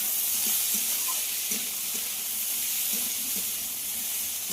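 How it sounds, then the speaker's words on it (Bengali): Chopped tomato and green peas frying in a pan give a steady, close sizzle with light, scattered stirring scrapes throughout, and no talking. "আবারও সব কিছু খুব ভালো করে ভেজে নিতে হবে।"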